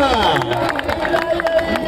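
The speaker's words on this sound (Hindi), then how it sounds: "कंडार मेहमान अकबर जोरदार तालियां" A crowd at a kabaddi match in a stadium claps and cheers in a steady, dense roar, with a commentator's voice carrying over it throughout.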